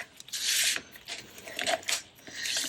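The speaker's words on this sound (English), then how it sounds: "Now you can use your bone folder to give it a good burnish" A bone folder burnishes folded paper on a craft project in bursts of close, dry rubbing strokes, three or four passes with short pauses between them.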